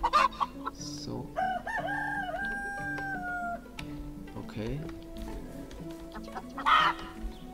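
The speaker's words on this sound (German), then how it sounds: "Jo, hier sind unsere Hühner." Chickens cluck in Medieval Dynasty, a medieval village game, over steady tonal game music, with a few brief spoken words from a man nearby.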